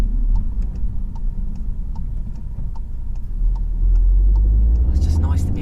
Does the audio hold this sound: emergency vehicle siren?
no